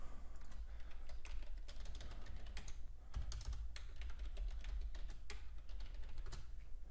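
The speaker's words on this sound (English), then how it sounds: "if you heard typing, that was just me making alerts in the chat room" Steady, rapid typing on a computer keyboard during a live day-trading session, clicks close and continuous over a low background hum, with no talking.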